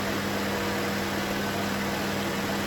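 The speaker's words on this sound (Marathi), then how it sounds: "ते मिक्सरला लावून घेतलं." A steady, continuous motor drone with a constant hum from a kitchen mixer grinder grinding puffed rice with a little water at full speed, loud and unbroken throughout.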